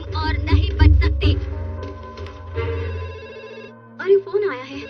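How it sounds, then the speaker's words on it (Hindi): A telephone rings repeatedly in a Doraemon cartoon episode dubbed in Hindi, a loud bell-like trill in bursts with background music and voices around it. "अरे फोन आया है।"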